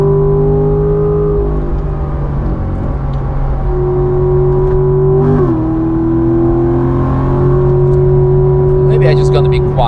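A Chevrolet C7 Corvette engine drones steadily at the Nürburgring, a loud sustained rumble that climbs slightly in pitch after a brief shift midway, heard from inside the car.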